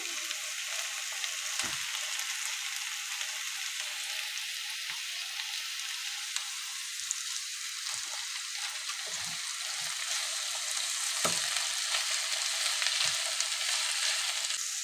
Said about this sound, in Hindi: शिमला मिर्च के बाद डालते हैं चिकन